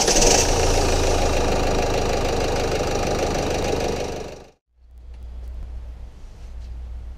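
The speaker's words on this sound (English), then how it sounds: "Now let's try to start the engine." Nissan X-Trail T31 diesel engine idling with a loud, rattly clatter, abruptly shutting off near the four-and-a-half second mark, then a lower, quieter rumble follows as it restarts or another engine runs nearby.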